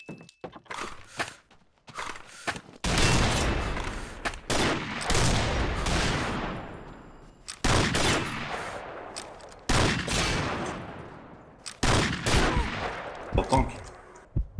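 Gunfire from the 650 weapon in the video game Destiny comes in repeated loud bursts, each sharp report trailing off in a short decay, spread across the whole stretch with a few quieter thuds between them.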